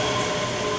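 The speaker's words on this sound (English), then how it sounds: "arriving in is the 1404 Scotland service to Edinburgh Waverley." A passenger train runs into Haymarket station in Edinburgh with a steady, loud rolling rumble and a faint wheel squeal, without voices.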